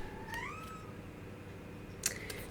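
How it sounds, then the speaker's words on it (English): A young female cat meows twice, a rising drawn-out call near the start and a shorter one just after the two-second mark, both fairly close and clear over a quiet room background with no talking. "Sorry if you hear my kitty."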